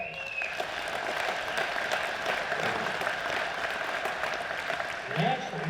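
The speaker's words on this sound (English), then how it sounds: "I wish you'd give them all a round of applause." A crowd at a racers' reunion gives a sustained round of applause for inducted racing family members, the clapping steady and somewhat distant, with a voice briefly heard near the end.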